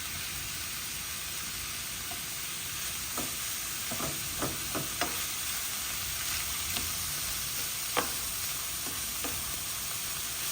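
Onion, garlic and bell pepper sizzle in a pan, a soft steady frying hiss with scattered small pops and crackles, faint and without voices.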